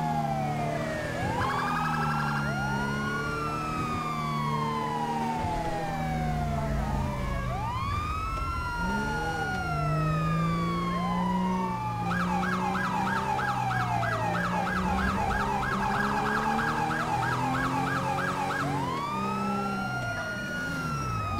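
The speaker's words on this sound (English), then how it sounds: "We're in the city, so I'm going to turn on our sirens now." Several emergency sirens from the video game GTA 5 wail and yelp at once, a police car siren among them, with rising and falling sweeps and rapid warbles over a steady vehicle rumble, loud and continuous.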